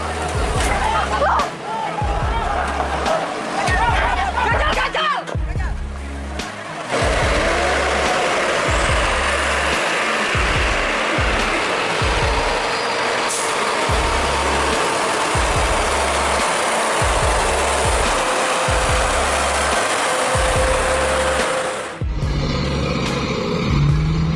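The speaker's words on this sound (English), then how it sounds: "A giant tractor trailer loaded with heavy equipment is stuck deep in the mud" Heavy engines rumbling loud and near as an Isuzu tractor trailer loaded with heavy equipment sits stuck deep in mud, with pulsing diesel throb, a hiss like an air brake and crowd babble underneath.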